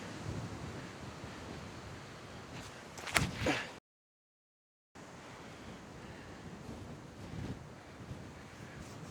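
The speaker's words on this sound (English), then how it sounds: "that wind is so strong I almost blew the camera over again" Strong wind gusts across an open disc golf course during a dust storm, roaring and buffeting the microphone loudly throughout. A short sharp knock is heard before a brief gap of silence, then the wind roars on.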